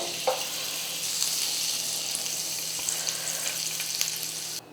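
Butter and oil heat together in a pan for a bread omelette, making a steady, close sizzle with small pops that cuts off abruptly at the end.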